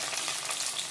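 Shallots and curry leaves frying in oil in a clay pot for a Tamil fish curry give off a dense, close, continuous sizzle and crackle with no voices.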